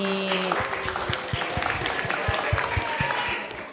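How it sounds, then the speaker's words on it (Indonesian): Audience applause for a student after her elementary school research seminar, a burst of clapping with distinct sharp claps standing out, fading near the end. "Tepuk tangan dulu dong buat Alani."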